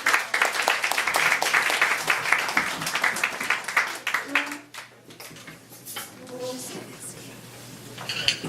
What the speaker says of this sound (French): on les applaudit, mesdames et messieurs.